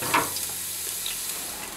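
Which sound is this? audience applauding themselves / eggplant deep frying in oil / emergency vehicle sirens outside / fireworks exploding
eggplant deep frying in oil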